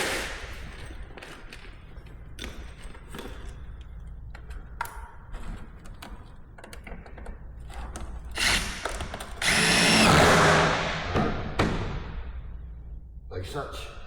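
A power drill drives stitch screws into metal roof flashing at a gable-to-valley detail, with short repeated whirring bursts and one longer loud high-pitched run, while someone talks nearby between drillings.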